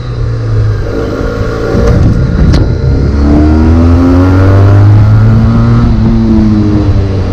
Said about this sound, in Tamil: இதனுடைய எக்ஸாஸ்ட் நோட் எல்லாமே வந்து டீட்டெயில்டாக பார்க்கலாம்.